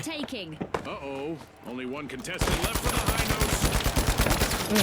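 Rapid automatic gunfire in the video game The Finals, a fast, steady burst of close, loud shots that takes over after someone talks briefly.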